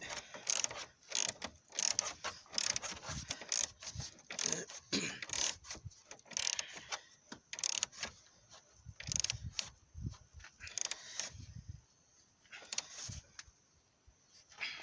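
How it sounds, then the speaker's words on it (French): A ratchet and socket tighten a bolt on the engine mount of a Renault Laguna 3 coupé 2.0 dCi. Close, quiet bursts of rapid clicking repeat in an uneven rhythm with short pauses between strokes. "Alors là maintenant je viens installer la douille et je viens visser."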